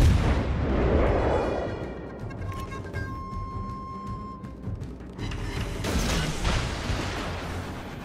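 Warship guns fire at an enemy ship in the naval combat game World of Warships Legends, with heavy booming blasts at the start and again later, separated by a quieter stretch carrying thin electronic beeps.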